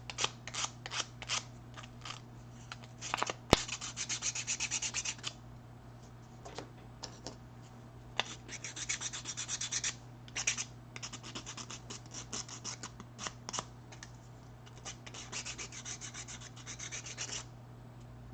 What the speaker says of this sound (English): as they say, sanding